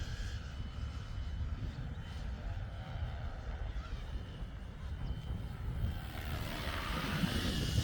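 An EC135 model helicopter flies and banks, its rotor and motor a faint, steady whir in the distance that swells slightly near the end.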